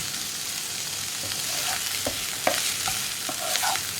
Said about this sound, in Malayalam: കോളിഫ്ലവർ ചേർത്തിട്ട് ഈ മസാല നന്നായിട്ട് കോളിഫ്ലവറിലേക്ക് ഒന്ന് പിടിച്ചു വരുന്ന രീതിയിൽ ഇളക്കി കൊടുക്കുക